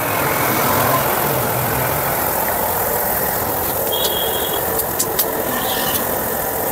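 A motorcycle engine idles steadily nearby, a constant low rumble that runs throughout, with a few faint higher clicks and tones over it.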